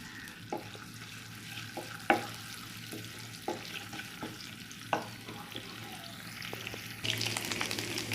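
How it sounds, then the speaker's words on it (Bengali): Ginger garlic paste frying in oil in a pan, a soft continuous sizzle with scattered sharp taps and scrapes of a stirring spoon, quiet and close, growing a little louder toward the end. "দেখুন, আদা রসুনটা ভাজা হয়ে আসছে"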